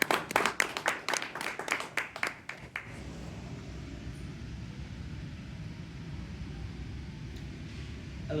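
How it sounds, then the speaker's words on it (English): A small audience claps for student speakers at a mixed reality and AI talk, a few seconds of scattered, moderately close claps that stop and give way to a low, steady room hum. "Give them a round of applause."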